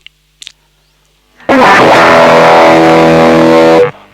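A Dean C350F electric guitar run through a mixer into a distortion effect plays a loud sustained distorted chord after a few faint taps, ringing steadily for over two seconds before cutting off.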